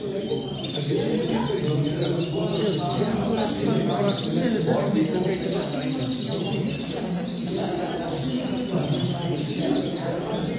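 Gloster canaries chirp and twitter constantly at a bird club show. The bright calls overlap in a busy chorus while people talk nearby.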